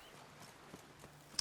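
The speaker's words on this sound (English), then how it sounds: "Maybe just get off the horse." Hooves of a horse in The Witcher 3 tapping out a few faint, spaced clip-clop steps over quiet game ambience, ending in a sharper knock.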